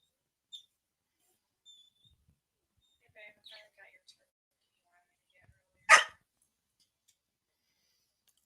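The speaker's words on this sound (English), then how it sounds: "Now I got a dog barking at me." A dog gives a single loud, sharp bark after a few faint, scattered noises in an otherwise quiet room.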